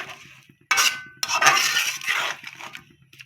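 Metal spoon clanking and scraping against a pot while masala for chicken biryani is stirred and sautéed, with a few sharp clinks and a longer rattling scrape over a quiet low sizzle.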